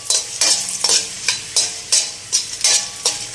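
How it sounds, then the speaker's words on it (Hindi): Fox nuts (makhana) roast in ghee in a pan, a spoon stirring them in regular rhythmic scrapes about every half second, close and fairly loud with a faint sizzle between strokes. "इसी घी के अंदर मैं ये फुल मखाने डाल रही हूँ 1 कटोरी"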